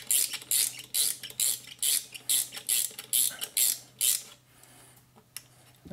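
Repeated rhythmic ratcheting and metallic working noises, about a dozen short bursts, as a turbo oil drain hose clamp is loosened on an SR20 engine, close and fairly loud with no talk.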